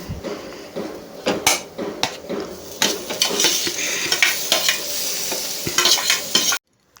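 Vegetables for a toor dal bassaru fry in a pan with a steady sizzle, broken by repeated metal clinks and scrapes of a spoon stirring against the pan, close and fairly loud, before stopping abruptly.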